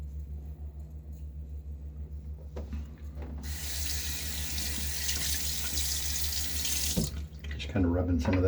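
Water runs from a bathroom tap for a quick rinse during a wet shave, a steady hissing stream that starts after a few seconds of low hum, flows for about four seconds, then stops with a clunk of the handle.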